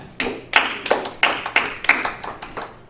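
At a VFW post comedy show, an audience member claps sharply and sparsely, about eight distinct hand claps in a slow, uneven rhythm, fairly close and alone.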